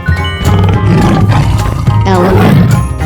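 A tiger roars loudly in a 3D animal video game, a sustained growling roar with harmonic layers lasting about three seconds, set among other game animal sounds.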